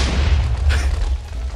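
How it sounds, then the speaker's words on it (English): A deep booming blast from a nuclear TNT explosion in the Minecraft video game, loud and rumbling with a short burst near the middle before it tapers. "Donkey did not survive the nuclear explosion."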